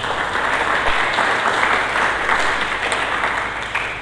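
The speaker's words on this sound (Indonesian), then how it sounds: "Berikan tepuk tangan bagi Yesus." A church congregation applauds during a Sunday sermon, a dense, loud, sustained crowd clapping that continues evenly throughout with no speech over it.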